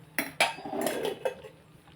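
A spoon adding ghee to rice for sweet pongal, two crisp metallic clinks against a pot followed by a brief scraping rattle and a last soft tap, close and clear with no voices.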